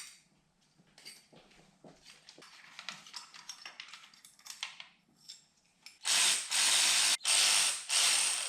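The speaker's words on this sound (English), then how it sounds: "those are difficult to remove without this special mini ratchet" A special mini ratchet clicks quickly on bolts of a BMW engine, with soft rapid pawl ticking at first, then several loud harsh ratcheting bursts near the end, no talk.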